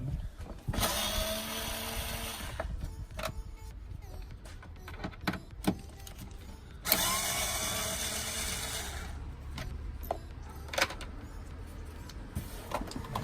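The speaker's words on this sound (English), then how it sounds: "First thing you want to remove is these bits, right? The screws here." Screws being removed from a car's air filter box while fitting a Pipercross filter: quiet intermittent mechanical whirring bursts, like a powered driver, with small clicks and handling clatter between them, close by.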